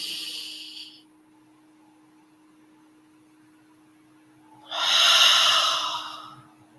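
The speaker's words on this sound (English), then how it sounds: "breathing in through the nose" A deep inhale drawn in through the nose during a guided cleansing breath, a soft airy rush that swells for about two seconds and fades, heard alone after a brief earlier breath in a quiet room with a faint steady hum.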